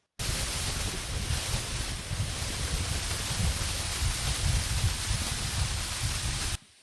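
Ezimo waterfall in Nsukka, Enugu, Nigeria, gushing under sustained pressure like thick rainfall: a loud, steady, broadband roar of cascading water that runs unbroken, with no voices.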